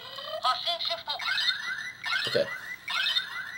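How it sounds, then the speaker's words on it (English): Electronic alarm from a Boukenger Accellular toy phone, triggered by a button press: repeated bursts of bright, warbling synthetic tones in a steady pattern, close and fairly loud, with a brief spoken word partway through. "Pushing this button makes this noise, and pushing one of the numbers cancels it."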